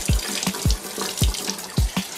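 Tap water running into a sink or cupped hands for wetting hair, a close, continuous stream with rhythmic splashes and gurgles recurring about every half second.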